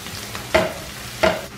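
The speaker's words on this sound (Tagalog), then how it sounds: "So, magigisa lang tayo ng sibuyas." Onions sautéing in a pan, a soft sizzle broken by two distinct stirring scrapes.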